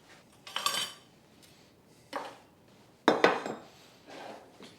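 A bowl and whisk are handled for a coffee cake icing, giving several separate clinks and scrapes of metal against the bowl, with short bright bursts spaced apart and quiet pauses between them.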